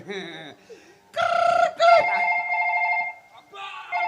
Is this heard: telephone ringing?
yes